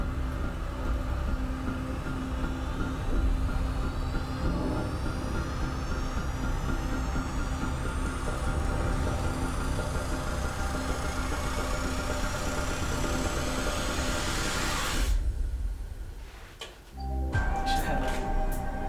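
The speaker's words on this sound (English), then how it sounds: "The sound you're hearing is a light black hole banging on space each time it gets close." A sonified black hole merger, with a light black hole falling into a heavy one: thin tones rise steadily in pitch and intensity over a low rumble, then cut off abruptly, followed by a brief quiet stretch and a return of noise.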